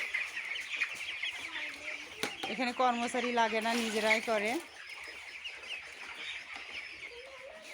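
Broiler chickens cluck and call steadily inside a home poultry shed, with a fuller burst of calls in the middle, while a person talks over the flock.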